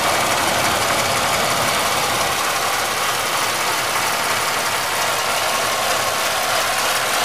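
A GM 3100 V6 engine idles just after a cold start, its steady mechanical clatter and rapid ticking knock of piston slap filling the sound evenly and loudly throughout, with no voices.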